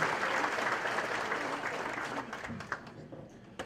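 An audience applauds for a priest at a fiftieth anniversary gathering, a dense clapping wash that gradually thins and fades, with a few sharper isolated claps near the end.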